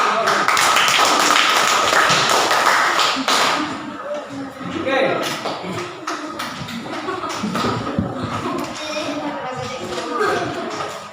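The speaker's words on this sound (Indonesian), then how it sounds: "Ya, tepuk tangan." A classroom of students claps together at the end of a group presentation, dense and loud for about three seconds, then trailing into scattered claps, desk taps and shuffling as a brief voice speaks.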